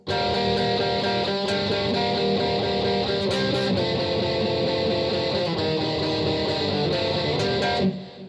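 A distorted electric guitar plays a continuous overdriven riff, thick and sustained at steady volume, then cuts off abruptly at the end.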